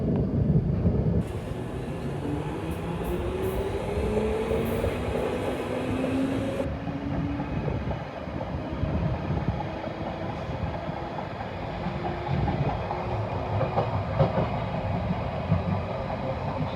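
A London Underground Piccadilly Line train heard from inside the carriage, a continuous loud rumble with rising motor whine, rattling wheels and track clatter as it runs between stations.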